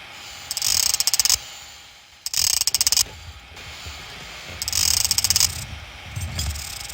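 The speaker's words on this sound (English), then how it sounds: "Now just tighten up those new pads and you'll be done." Nut driver tightening new brake pads in the Tonka Garage video game: three loud bursts of rapid ratcheting clicks, each lasting about a second, separated by quieter mechanical hum and no talk.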